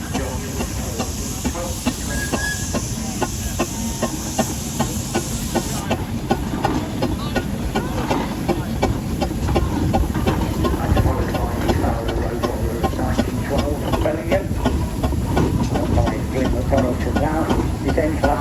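A Rochester-built D-type steam engine, rebuilt from a kit of parts, rolls past in a steam rally parade at Carrington, giving a steady loud hiss and chuffing rumble while someone commentates over a public address.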